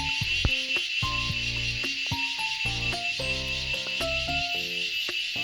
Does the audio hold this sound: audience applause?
no